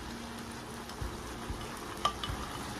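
Extra peppers and onions go into a pot of steamed fish, with a steady sizzling, frying hiss throughout, a few soft knocks from stirring, and one brief clink near the end; no one speaks.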